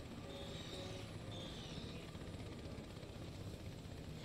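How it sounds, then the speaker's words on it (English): Heavy, clunky helicopter in Earth Defense Force 4.1, a steady close rotor drone with a broad roar that holds at the same loudness throughout, no voices over it. "No, I have a helicopter. It's just really heavy and clunky."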